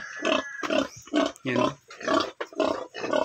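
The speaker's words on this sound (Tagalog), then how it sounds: "Grabe, ang laking baboy to guys." A large male pig tied to a coconut tree grunts up close in a rapid series of harsh, throaty grunts with short gaps between them. A person speaks one brief word.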